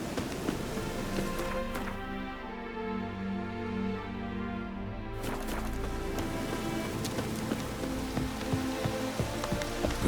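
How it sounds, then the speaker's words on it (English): Rain in The Witcher 3 falls steadily on surfaces as a continuous patter, with music and game ambience layered over it at moderate loudness. "Looks like rain."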